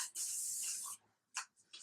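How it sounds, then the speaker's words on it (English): A close aerosol hairspray hiss sprays steadily for about a second, then two shorter bursts follow after a brief pause. "I just give it a little light spray all around"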